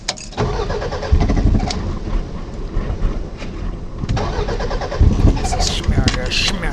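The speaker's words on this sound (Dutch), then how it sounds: "Natuurlijk moet al die eerst proberen of het ding start." A vehicle engine is cranked in an attempt to start it, a loud continuous mechanical churning and rumble of a car with a charged battery but no fuel, heard close up with people talking over it.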